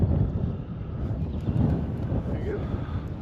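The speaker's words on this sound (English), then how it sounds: "Oh, it's windy." Wind blowing across a lake during fishing, a steady broadband rush and buffeting against the microphone that stays loud and continuous throughout, with gusts swelling and easing.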